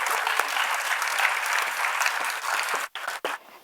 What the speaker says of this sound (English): Let us welcome Dr. Akhila Ramnarayan and Dr. Vijila Edwin-Kennedy with a round of applause